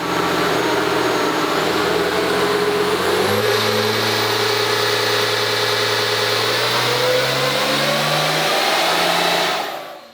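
A 5.9 engine fitted with Exergy stock replacement injectors runs on a dyno, a loud sustained roar whose pitch climbs steadily under hard revving before cutting off at the end.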